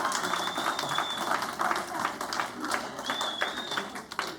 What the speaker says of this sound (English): So I would like everyone to please give a round of applause to Emma Bowman.